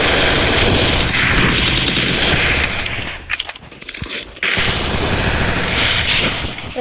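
Gunfire in the mobile video game Free Fire, with rapid automatic bursts that stay loud and continuous, a brief lull midway, then the firing resumes.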